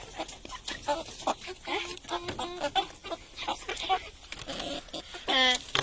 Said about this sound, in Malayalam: എല്ലാരും കോഴിക്കുഞ്ഞുങ്ങളെ കണ്ടോ?